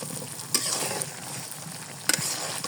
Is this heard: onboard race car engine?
no